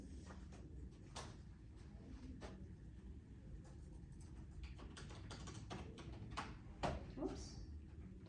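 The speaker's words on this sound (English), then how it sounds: "Oops, typing too fast." Quiet, fast clicks of computer keyboard typing come in irregular bursts, with a few louder knocks near the end, over a faint background hum.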